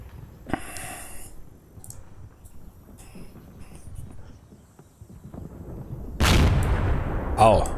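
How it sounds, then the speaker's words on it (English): A tank shell impact in the wargame Combat Mission Red Thunder lands as a loud, sudden blast near the end. It follows quieter battlefield rumble and an earlier sharp crack. "da war der Tank Impact"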